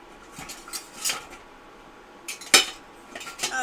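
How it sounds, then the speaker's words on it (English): Utensil clinks against a pot while egg drop soup is stirred, several sharp metallic taps spread out with one louder strike near the end, no talking. "Now, we're going to give it a stir."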